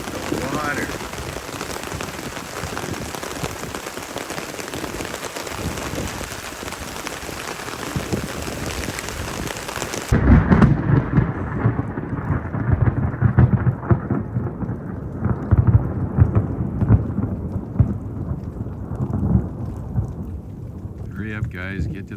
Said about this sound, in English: as you can see, the wind and the rain, thunder